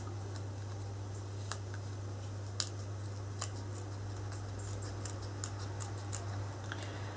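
Scissors snip out paper pieces for a 3D decoupage Christmas card, giving faint, scattered cuts and clicks at an irregular pace over a steady low hum.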